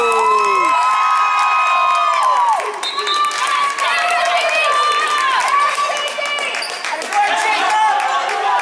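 A high-school crowd at a boys volleyball match between EHHS and Staples: a loud, sustained roar of cheering, whooping and shrill youthful shouts in a gym, with a commentator's voice over the noise.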